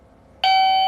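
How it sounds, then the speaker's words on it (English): A motion sensor doorbell suddenly sounds a loud, sustained electronic chime tone after near silence, close by. "has a doorbell effect, but it's pretty sensitive"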